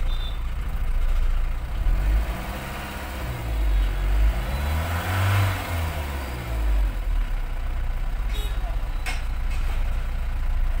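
A Mahindra Scorpio S2 engine, which has a P2264 pickup problem, idles and then revs up and down in slow swelling sweeps, loud and close, before settling back to idle.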